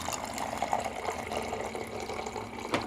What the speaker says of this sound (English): now it's able to dispense the hot water